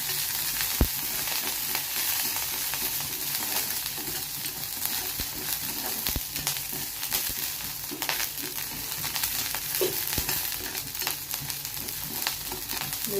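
Four green chillies fry in hot oil while a slotted spoon stirs them, a steady crackling sizzle with occasional metallic scrapes and taps against the pan, with no talking.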